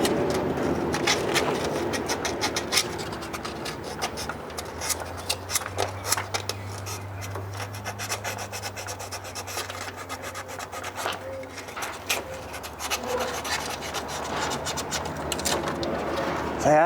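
Old parts from an abandoned 1986 Dodge Ram barn find get a long, steady scrubbing, with rough rasping strokes repeating close by and a bird cooing faintly in the background.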